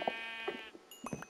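Short sheep bleats from the Minecraft video game, a couple of quick nasal calls in close succession, loud and clear with no talk over them.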